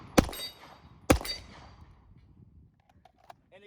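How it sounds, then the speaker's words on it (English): Two sharp gunshots fired at a target on a shooting range, about a second apart, each a loud crack with a ringing decay, followed by faint small clicks and clatter. "we're able to shoot the target a little bit faster because we put that aspect of control in"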